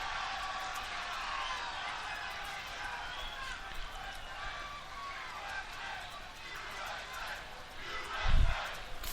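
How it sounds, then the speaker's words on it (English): Stadium crowd at a USA versus Uruguay rugby match in Kennesaw, Georgia, a broad distant roar of cheering and chanting running throughout, with a commentator talking over it. "If you can't hear it, those cries for USA."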